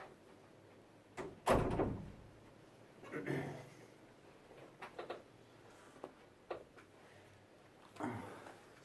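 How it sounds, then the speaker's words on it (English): A door shuts indoors before a meeting with one loud, close thud, then a few lighter knocks and shuffles against a quiet room, with a brief voice in the background. "Should I close the door?"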